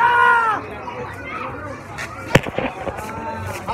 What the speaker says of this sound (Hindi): चुकाई जब लगाएंगे 2000 बम की लड़ी और ये आग लगाई और लग गई, लग गई।